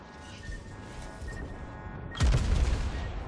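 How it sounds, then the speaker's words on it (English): A battleship main-gun volley from the Izumo in World of Warships booms out loudly after a stretch of low ambient sea noise, with a rumbling tail that follows. "that's another volley towards the torpedoes, still taking pot shots"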